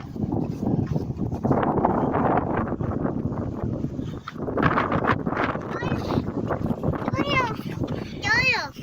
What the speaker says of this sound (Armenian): Քամին տարավ։